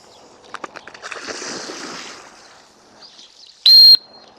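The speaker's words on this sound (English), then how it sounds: "I try to blow my whistle to the left" After some soft rustling and splashing during a retriever water drill, one short, shrill, loud dog training whistle blast rings out, then fades back to quiet.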